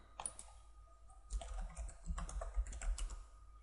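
Typing on a computer keyboard, entering a file name on a desktop PC: a steady run of close, crisp key clicks that grows denser and louder halfway through, with no voices.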